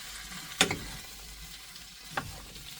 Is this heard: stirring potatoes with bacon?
yes